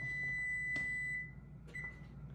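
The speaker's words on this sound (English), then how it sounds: "we gotta turn the timer off." A kitchen timer beeps after a batch of orange cranberry muffins has baked, giving a long steady electronic tone that stops, then a second short beep follows, close and fairly quiet.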